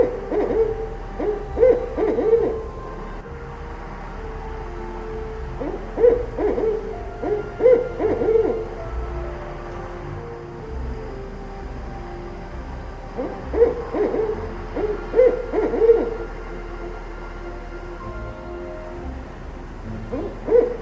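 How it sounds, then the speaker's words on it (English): A barred owl in British Columbia calls for its mate with clear, resonant hooting phrases that repeat in clusters across the recording, with quiet pauses between them and no voices. "The barred owl calls out for its mate"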